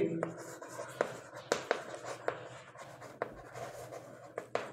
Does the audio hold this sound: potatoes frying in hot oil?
no